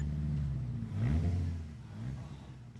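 A car engine revs up and falls back, rises again more gently, and eases off, heard at moderate distance.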